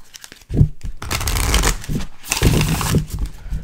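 Riffling and rustling of tarot cards being shuffled, loud and close, in repeated bursts with brief pauses between them.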